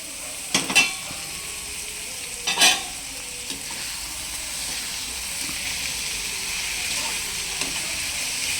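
Prawns sizzle and fry in a pan with half-cooked onions for a prawn roast, a steady close hiss throughout with two brief stirring scrapes near the start.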